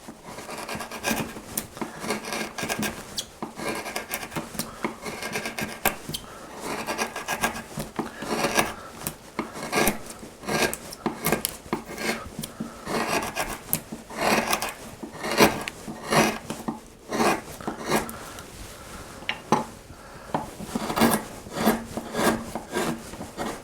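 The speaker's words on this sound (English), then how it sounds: "Use backbent tools, backbent gouges in here, and run the hanger as far across as you can" Backbent gouges carve across a wooden shirt collar, giving steady scraping and rasping strokes of steel against wood that repeat in close, busy bursts with no talking.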